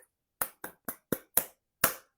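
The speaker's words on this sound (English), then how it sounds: "And then they clap back." Students clap back a rhythm in a music lesson: six crisp, close hand claps, five evenly spaced in quick succession, then a short pause before the last, with silence between.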